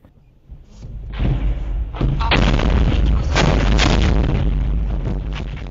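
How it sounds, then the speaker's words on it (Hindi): Heavy shelling during the bombardment of Kharkiv rolls in as a loud, continuous rumble of deep booms and thuds, the blasts overlapping into a sustained roar with no voices. "ये बमबारी अंधाधुन रही है और निशाने भी मनमाने तरीके से लगाए गए हैं"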